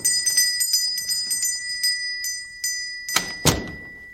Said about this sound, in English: the opening doorbell.